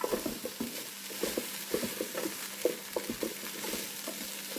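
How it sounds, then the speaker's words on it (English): Curry chicken with vegetables and rice being stirred in a pot, giving soft, irregular scraping and sizzling over a low bubbling hiss, close and fairly quiet. "Again, I'm going to stir that around."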